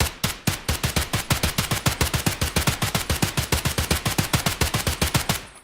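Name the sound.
HK rifle firing single shots in Escape from Tarkov video game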